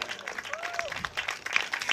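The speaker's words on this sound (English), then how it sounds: "give them a round of applause because they have to leave." Brief burst of audience clapping from a crowd, fairly loud and dense, with a faint voice or tone mixed in.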